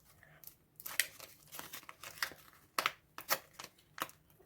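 A printed paper packet being opened by hand, with a run of close crinkling and tearing bursts in irregular rhythm, each crackle quick and dry against a quiet background.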